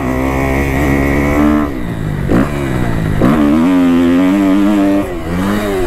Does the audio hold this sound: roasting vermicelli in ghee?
no